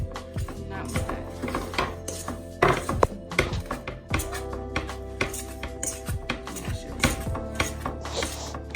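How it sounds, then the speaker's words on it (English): A fork scrapes and clinks against a bowl while mashing sticky vegan pizza dough, with irregular metallic taps and scraping over a steady background hum. "you can go ahead and mash it with the fork to try to get it to go evenly"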